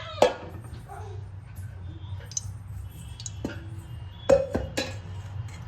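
A metal wok clanks down onto a stovetop, with a couple of sharp metallic knocks and clinks spaced apart over a low background hum.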